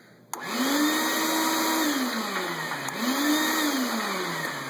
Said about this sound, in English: I'm going to apologize for the loud noise, but it is the Shop-vac kicking on.